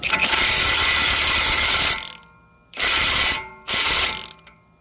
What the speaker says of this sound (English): I'm just gonna tighten it with my impact for now.